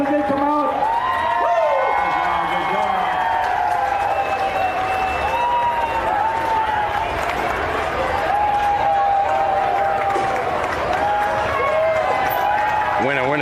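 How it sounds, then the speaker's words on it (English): Rodeo crowd in a large Houston arena applauding and cheering in a steady, dense wash of noise, while an announcer's amplified voice talks over it throughout. "Give them all a nice round of applause as they come out."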